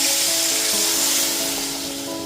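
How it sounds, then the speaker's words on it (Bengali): Boiled lentils and radish hit fried tempering in a hot pan, setting off a loud, steady sizzling hiss that slowly fades over a couple of seconds. "সেদ্ধ করে নেওয়া ডাল আর মূলোটা দিয়ে দেওয়ার পর"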